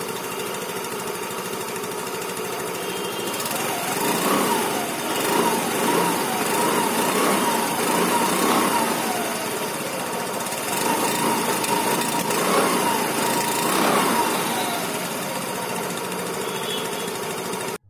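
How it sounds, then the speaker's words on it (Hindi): Yamaha Fascino BS IV scooter engine and exhaust running nearby, a steady idle rising into a few short throttle blips, with no talking. "अब मैं आपको इस स्कूटर का एग्जॉस्ट साउंड सुना देता हूँ"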